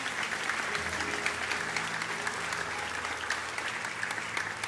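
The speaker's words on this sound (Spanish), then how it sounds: "Denle un aplauso al Señor en esta hora." Members of a church congregation applaud during a Spanish-language service, a loud, sustained roar of many hands clapping at once that holds steady throughout.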